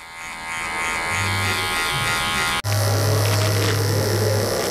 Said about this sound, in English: Here we go, up and down with the clipper.